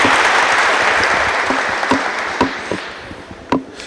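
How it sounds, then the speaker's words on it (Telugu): Applause from an audience at a hospital programme, dense and steady clapping that slowly thins out, with a few sharper individual claps standing out near the end. "డాక్టర్ విజయ్ కుమార్ రెడ్డి గారు చప్పట్లు కొడతాం"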